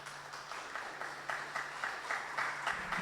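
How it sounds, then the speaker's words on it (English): Audience applause after a presenter is introduced at a closing presentation, a steady moderate patter of clapping from a room of people with no voices over it. "So give him a round of applause."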